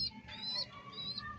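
Pigeons in a loft give soft chirps and faint cooing calls, a few brief tonal notes over quiet background rustle.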